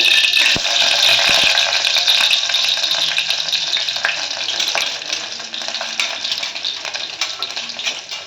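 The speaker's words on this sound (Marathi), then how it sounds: "तो तेलामध्ये आता आपल्याला लसूण हा छान परतून घ्यायचं आहे" Crushed garlic sizzles loudly in hot oil, a steady bright crackle lasting throughout with a few sharp spits and pops, close and alone without talk.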